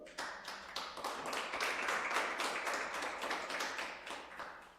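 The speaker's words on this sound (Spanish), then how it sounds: "Denle un aplauso al Señor" Worshippers in a church service applaud with distinct, fairly rhythmic claps that blend into a fuller round of applause before trailing off, heard at moderate distance and low level.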